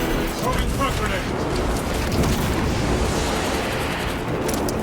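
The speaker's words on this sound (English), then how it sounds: "Throwing frag grenade." Frag grenade explosion in Warhammer 40K: Space Marine 2, a loud dense blast amid continuous roaring battle noise and clatter, with voices mixed in.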